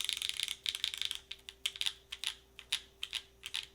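Quick clacky keystrokes on an Agar mechanical keyboard with Obscura switches, a PC plate, GMK keycaps and no foam, typed in short uneven bursts, close and fairly quiet.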